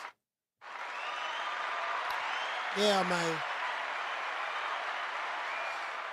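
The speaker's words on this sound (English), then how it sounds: "Let's give everybody a round of applause." A round of applause on a live talk show, a steady hiss of clapping that starts abruptly after a short silence and runs for several seconds, with someone briefly speaking over it midway.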